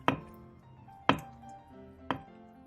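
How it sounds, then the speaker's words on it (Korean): Three sharp knife chops land on a cutting board about a second apart, slicing tofu and ham, each a crisp close thud with a short ringing tail. "두부 반모도 햄과 비슷한 크기와 두께로 잘라주세요."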